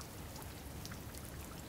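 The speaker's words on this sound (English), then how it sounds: "What did I tell you that we're going to get caught in this rain?" Rain falls in the video game The Rainman as a quiet, even patter of drops with no voices over it.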